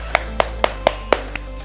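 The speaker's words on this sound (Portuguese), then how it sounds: "Palmas para nós!" Six sharp hand claps in a quick, fairly even rhythm, close and crisp, at the end of a home glute workout session, with a steady low hum underneath and no talking.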